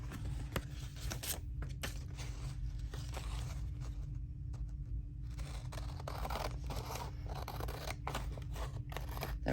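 Scissors snip through paper in short, quiet crunches, close up and alone, with small pauses between cuts.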